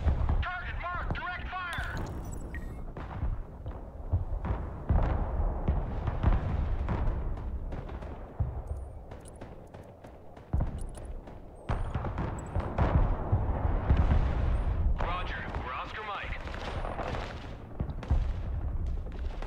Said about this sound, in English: I'm dropping artillery right there.